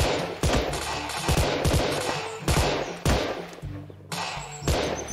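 Gunfire from a tap-to-shoot mobile shooting game: loud, close bursts of rapid shots with heavy thuds, several volleys in quick succession and brief gaps between them, with no talking.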